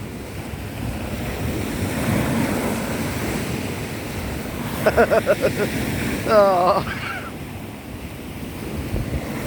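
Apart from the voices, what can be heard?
sea waves coming in at Paignton shore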